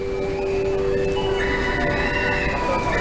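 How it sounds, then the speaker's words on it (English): Taipei metro train pulling into the platform: a steady, loud rolling rumble with high, sustained wheel or brake squeal tones that rise partway through, with no talking. "Train's approaching, please stand behind the white line."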